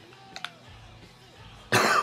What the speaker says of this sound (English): Sorry, I still got a little cough from being sick last week.